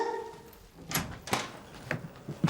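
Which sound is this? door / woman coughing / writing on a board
door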